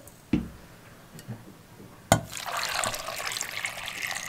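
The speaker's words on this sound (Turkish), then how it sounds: "Su ekleyelim." Water poured into a pot of chopped potatoes, with a couple of sharp knocks followed by a steady splashing pour that continues to the end, with no talk.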